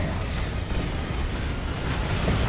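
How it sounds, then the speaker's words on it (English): A tank buster barrage in the Dawn of War 2 strategy game, heard as a continuous roar of overlapping heavy explosions and booms that stays loud and dense for the whole stretch. "Big old tank buster barrage."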